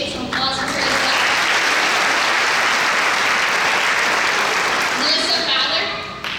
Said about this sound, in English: I will appreciate some applause for her as well.